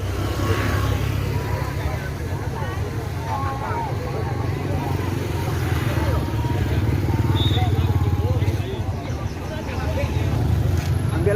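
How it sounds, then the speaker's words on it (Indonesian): Hajj pilgrims' buses pull away from Masjid Agung Al-Muhsinin as a crowd gathers, a steady low engine rumble and road noise running throughout, with voices and crowd chatter mixed in. "Bus 1 sudah mulai bergerak"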